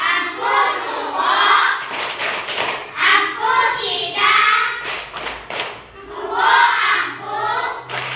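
A classroom group of children claps in bursts along with a chanted clap routine, the rhythmic claps mixed under loud, continuous chanting voices.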